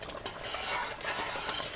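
A spoon stirs boiling rhubarb berry cobbler jam in a pot, giving soft scraping and bubbling sounds that swell and ease over a couple of seconds, close and fairly quiet.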